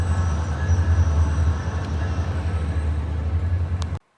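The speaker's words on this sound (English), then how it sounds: "CFRC 108 is one of the few SunRail locomotives that currently have a pretty good horn" SunRail locomotive CFRC 108 rolls by with a heavy, close, low rumble and rhythmic rail clatter that hold steady for about four seconds and then cut off abruptly.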